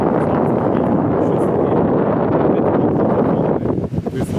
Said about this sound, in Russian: Ветер перешел через горы, поэтому ветер холодный дует.